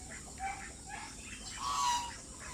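A Chinese chicken crossed with a native breed calls out from somewhere in the yard, a few faint clucking and crowing notes rising over a quiet outdoor background.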